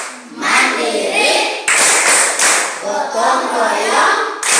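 A classroom of pupils doing a rhythmic clap chant led by a teacher, bursts of hand clapping in a patterned beat mixed with chanted voices.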